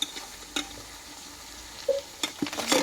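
Mutton being stirred and sautéed in a pan for a Bengali curry, with a few scattered scraping and clinking strokes over a low, steady sizzle, fairly quiet.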